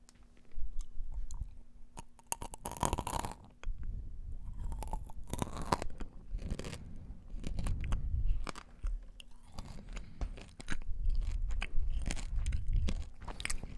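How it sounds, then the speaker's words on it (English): Triple chocolate espresso beans from Marich are crunched and chewed close to the mic, with crisp bites and repeated grinding crunches separated by brief quieter pauses, no talking. "Marich triple chocolate espresso beans."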